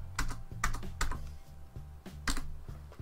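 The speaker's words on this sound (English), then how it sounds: "use the backspace found on your keyboard to take out the letters" Someone types on a computer keyboard with clear separate clicky keystrokes in an uneven rhythm, some pressed in quick pairs and with gaps between, including presses of the backspace key.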